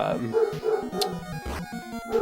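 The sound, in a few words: dog barking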